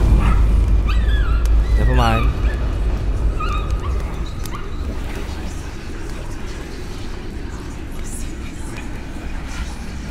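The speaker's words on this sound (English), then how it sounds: "Hey, it's a dog. Shut up, dog." Dog barking and whimpering in the horror game Layers of Fear, a few yelps and whines early over a dull ambient rumble, with someone talking briefly.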